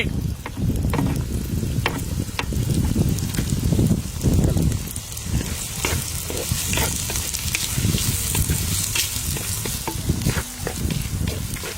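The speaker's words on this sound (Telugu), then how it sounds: "ఉల్లిగడ్డలు 4-5 నిమిషాలు వేగిన తర్వాత" Onions with dried red chillies and green chillies fry in hot oil in a pan, a continuous loud sizzle with crackling pops and occasional stirring scrapes, no voices.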